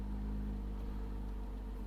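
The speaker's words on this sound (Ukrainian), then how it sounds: "Моторчик працює супер рівно." A 2015 BMW X5 engine idles smoothly and steadily at close range, a low constant hum with no talking.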